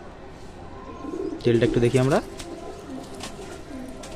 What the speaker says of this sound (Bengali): বাচ্চা পায়রা, 1 দশকের পায়রা।